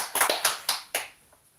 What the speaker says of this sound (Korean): 서로 축복하고 격려하며 박수 한번 하실까요?